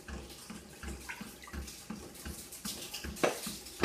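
Water is poured into yogurt to make kadhi, a steady splashing and trickling stream close by with small irregular splashes, heard alone without talk.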